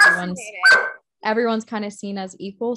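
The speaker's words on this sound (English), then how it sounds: "Sorry for the dog." A dog barks a few times in a room during a psychology discussion, sharp yips near the start mixed with a person speaking over it.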